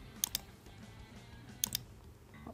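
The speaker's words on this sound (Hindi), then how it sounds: "मैं सिंपल एंटर प्रेस करने लगाऊँ" Keys clatter on a computer keyboard during data entry in a Microsoft Excel spreadsheet, with two quick pairs of sharp clicks about a second apart against a low room hum.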